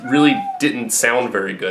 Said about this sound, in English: That's my cat in the background, if you're wondering.